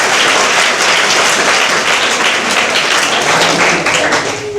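Loud, dense audience clapping fills the room with a steady, continuous roar of hand claps that holds for several seconds before easing slightly at the end, no voices over it.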